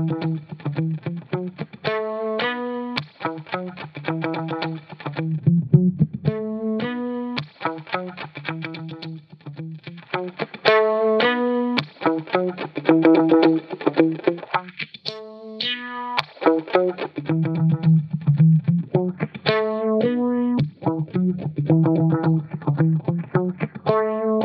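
Distorted, buzzy synth pattern run through a FabFilter Pro-Q 2 EQ at a high Q, steady chopped notes whose tone sweeps and warbles dramatically, loud and close with no talking.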